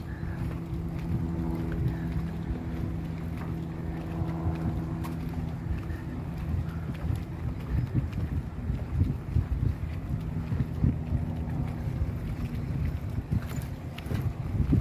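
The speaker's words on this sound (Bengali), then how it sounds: "আজকে ভালোই হাওয়া দিচ্ছে আর জলেরও ভালোই স্রোত রয়েছে।" Wind gusts across a small wooden boardwalk bridge over the Delaware River at Newcastle Battery Park, Delaware, with a swift current below; a steady, blustery low roar buffets the microphone throughout.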